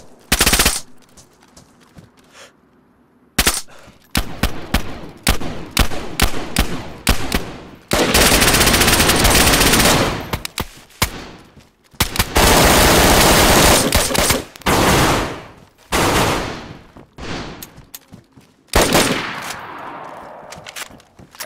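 Gunfire in the video game DayZ, with loud close automatic bursts and rapid volleys recurring across the clip, broken by short pauses and heavier sustained stretches of fire.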